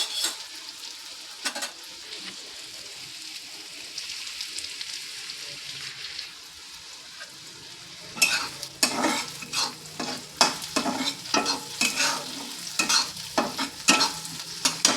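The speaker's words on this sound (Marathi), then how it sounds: "कांदा टाकला आपण. चांगलं असं मिक्स करून घ्यायचं." Onion frying and sizzling in a pan for a dish of bean vegetables, steady hiss at first, then repeated loud scraping stirs of the spoon in a quick irregular rhythm, close up with no talking.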